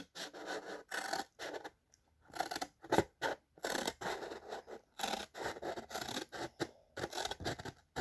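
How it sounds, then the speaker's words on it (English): Scissors snip through a paper plate, cutting it in half down the middle for a rainbow sun craft; a steady series of close, crisp scratchy cuts in short bursts with brief pauses. "take your paper plate and cut it in half, right down the middle"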